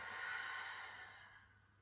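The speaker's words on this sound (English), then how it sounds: "So breathing in and out through your nose." During a gentle Hatha yoga session, a slow, soft breath is drawn and released through the nose, a single faint airy exhalation fading away in a quiet room.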